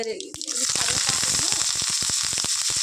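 Loud, close sizzling and popping as cumin, black gram and chana dal drop into hot oil, crackling bursts continuing steadily after a brief quieter start.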